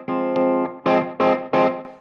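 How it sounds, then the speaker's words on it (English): A Maxon Fuzz Elements Void fuzz pedal adds thick, buzzing distortion to an electric guitar, with a sustained chord followed by three separate strummed hits that swell and fade. "The blend is how much distortion there is"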